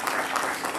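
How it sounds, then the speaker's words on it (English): A church congregation claps in praise during a Sunday morning sermon, a brief, soft burst of many hands heard from a distance. "Go ahead and give God a hand clap of praise this morning"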